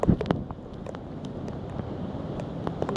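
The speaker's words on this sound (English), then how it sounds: "come up to the edge of the building and show you how bad the wind is" Strong storm wind buffets the microphone near the edge of a parking garage, a rough continuous rush with gusty thumps, loudest at the very start.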